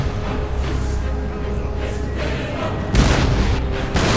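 Cannon and howitzer artillery exchanging fire in Napoleon: Total War, a woodland battle with dull booming blasts over a constant low rumble, with two heavier, sharper reports standing out near the end.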